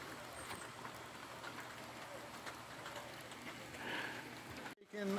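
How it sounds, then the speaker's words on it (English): Rain falling steadily at a rural shed-building site, a soft continuous hiss of drops that stays faint and even throughout, then cuts off abruptly at the end. "I don't know if this rain's here to stay"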